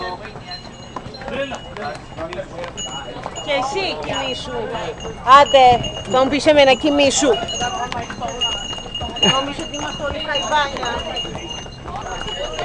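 Horse hooves clip-clop on the stone steps climbing from the harbor up to the town on Santorini, in a steady, uneven rhythm close by, under ongoing talk from several people.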